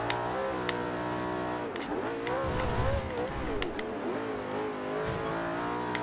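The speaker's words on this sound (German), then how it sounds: "Aber der Motorklang ist doch geil, oder? So ein V8-Sauger." A naturally aspirated V8 engine in Forza Horizon 2 drones steadily at high revs, its pitch rising and falling with throttle through corners, with a faint tire squeal, continuous and close.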